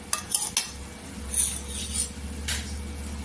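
Dry spices and ingredients being stirred in hot oil in a pan for sukhi sukat, a dried-fish dish, with clinks of a metal spoon against the pan over a low steady background.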